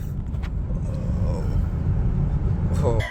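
A Tesla Model 3 Performance launches from 0 to 60, producing a low, steady rumble of road and cabin noise with a faint rising whine, with voices reacting over it.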